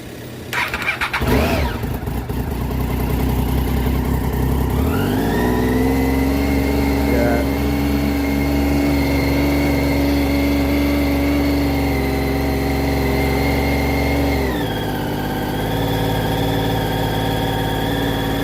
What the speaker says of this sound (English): so the revs are going up and down